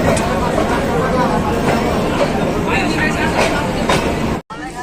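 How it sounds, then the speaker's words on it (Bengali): A Narayanganj commuter train pulls into the station with a loud, continuous rumble and rhythmic clatter of wheels on track, while crowd babble mixes in before a sudden brief drop near the end. "নারায়ণগঞ্জ স্টেশনে ট্রেন চলে এসেছে"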